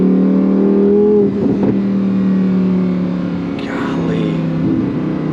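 A 2024 Lamborghini Huracan Sterrato V10 engine holds a loud, close, steady drone with a smooth rising tone, then briefly shifts and surges again, with faint voices in the background.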